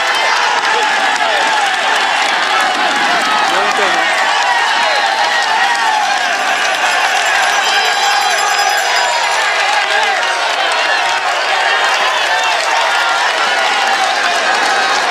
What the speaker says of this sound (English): the crowd are doing everything except riding the bike for him